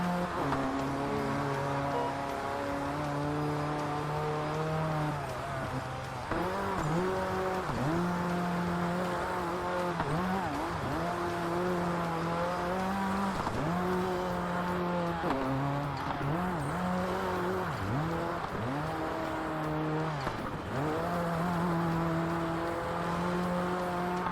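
Race cars in the Xbox game RalliSport Challenge 2 whine and rev continuously, engine pitch rising and dipping repeatedly as they pass, with a steady loud drone throughout and no talking.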